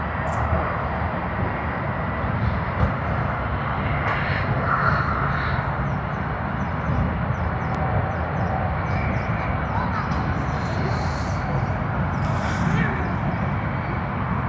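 A jet airliner taking off at Sydney Airport gives a broad, steady roar that holds for the whole stretch, loud and even, with faint chirps and brief higher sounds over it.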